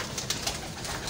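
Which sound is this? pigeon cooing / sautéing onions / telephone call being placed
pigeon cooing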